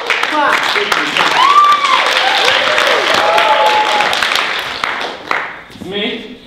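Studio audience clapping and cheering as a guest is brought out on stage, a dense wash of applause with whoops and tonal cries over it, fading out near the end as a voice speaks.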